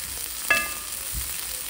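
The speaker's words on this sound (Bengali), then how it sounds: "কর্নগুলো এখানে একটু লাল লাল করে ভেজে নিচ্ছি বাটারে।" Corn kernels fry in butter in a pan with a steady close sizzle, a brief clink of a utensil against the pan partway through.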